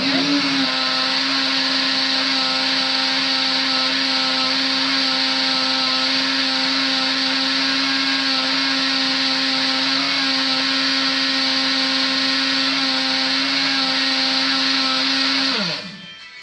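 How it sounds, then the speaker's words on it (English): Blender running steadily on a homemade fruit snack gummy mixture, a loud continuous motor whine with a constant pitch for about fifteen seconds before it cuts off and spins down at the end. "I'm just going to pulsate this with my blender just to make sure that we're all"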